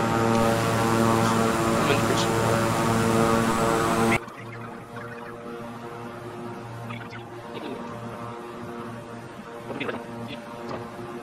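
Propeller aircraft engine at full throttle in the Microsoft Flight Simulator game, a steady droning hum that holds strong for about four seconds, then continues at a lower level with faint chatter beneath.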